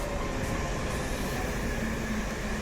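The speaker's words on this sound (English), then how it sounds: "wait for this fast express train to go by" A fast express train runs through a station on the line toward Chelmsford and London, a steady, dense rumble and roar that fills the whole stretch at fairly constant loudness with faint tonal whine.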